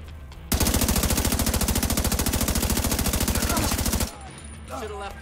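Automatic gunfire in The Division 2 bursts in abruptly as one loud, rapid, evenly spaced stream of shots lasting about three and a half seconds, then cuts off into quieter game ambience.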